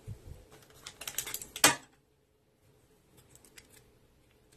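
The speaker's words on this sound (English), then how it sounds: "let me cut that string" Scissors snipping thread close to a knot on a hand needle, a quick cluster of small clicks and rustles ending in one sharp crisp snip, close and quiet, followed by near silence with faint handling.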